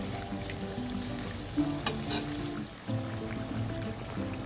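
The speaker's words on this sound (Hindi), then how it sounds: "इसको भी हम फ्राई होने के लिए रख देंगे और ऐसे हम करके इसको फ्राई कर लेंगे" Bread pakora, cheese-stuffed and made with potato, sizzles steadily in hot oil, a close, continuous crackling fry with small bubbling bursts and no voices.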